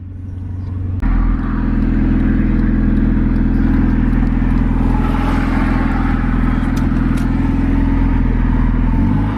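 A turbocharged D16 engine in a Honda Civic pulls hard into boost, a loud, steady engine roar that holds for several seconds after a brief lower-pitched start.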